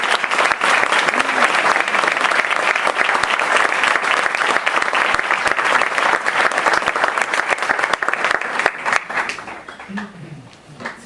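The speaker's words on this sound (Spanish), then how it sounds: "Yo los invito a que le demos un aplauso a los dos ponentes." A large audience claps loudly and steadily for several seconds, the applause thinning and fading out near the end as a voice returns.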